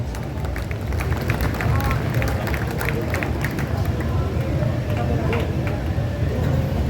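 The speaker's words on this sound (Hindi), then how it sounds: "आपने तालियां कमजोर बजाई" An audience at an all-India Hindi poetry gathering in Bundi for Kajali Teej claps steadily, a dense, continuous patter of many hands heard from within the crowd for several seconds, with murmured voices faintly underneath.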